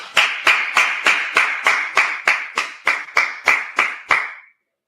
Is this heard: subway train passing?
no